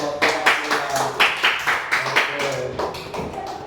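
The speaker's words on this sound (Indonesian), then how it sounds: "tepuk tangan dulu untuk nomor 1" A classroom of students claps in loose, rhythmic bursts, roughly a dozen distinct pulses of hand claps close by, with some chatter mixed in.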